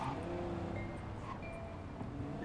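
A car driven in the Cyberpunk 2077 video game, with a steady engine drone and road rumble running throughout, loud and close, with scattered game sounds on top and no talking.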